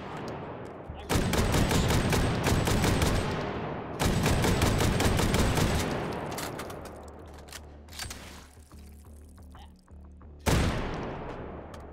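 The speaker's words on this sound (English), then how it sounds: "Ooh, submachine gun." A submachine gun fires in the VR shooter Hot Dogs, Horseshoes & Hand Grenades: sustained rapid bursts of loud, close automatic gunfire, a pause, then more bursts and a final sharp shot.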